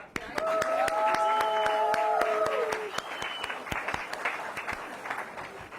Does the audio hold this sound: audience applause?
yes